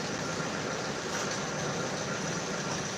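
A 1987 Toyota Kijang Super engine idles smoothly and steadily, with a constant close mechanical hum and faint valvetrain ticking throughout. No voices are heard.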